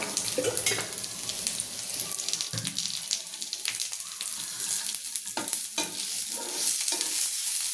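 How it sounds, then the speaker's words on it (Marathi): Grated coconut and onion roast in hot oil in a pan, giving a steady close sizzle with repeated scraping and stirring strokes, occasional sharp clinks of the spoon, and no voices. "छान खोबरं आणि कांदा परत 2 मिनिटं लाल होऊ द्यायचा"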